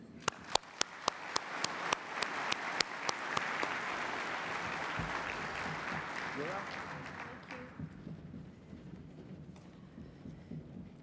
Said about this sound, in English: please join me in one more round of applause for the Premier